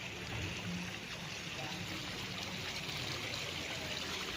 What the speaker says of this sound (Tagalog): Galing yan sa bukal ang tubig.